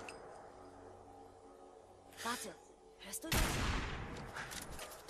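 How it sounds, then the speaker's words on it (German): A gunshot in the Fallout 4 video game, a single sharp crack near the middle followed by a rolling echo, with quieter game sounds and a little voice around it. "Ja, von wo kam der Schuss wohl"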